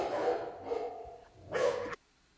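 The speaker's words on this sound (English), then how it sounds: "Whose puppy is it? Is it your puppy?" A puppy gives two or three soft, close barks and yips, with whimpering tones and a brief pause between them, at a fairly quiet level.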